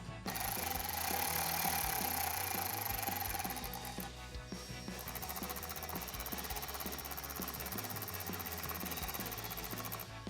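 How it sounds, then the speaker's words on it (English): Phillips screws are driven with a Phillips head socket and ratchet while installing an S&B cold air intake on a Chevrolet Silverado 1500, with rapid repeated clicking and rattling of the ratchet continuing throughout, close and fairly loud. "screw them in with a Phillips head socket and a ratchet"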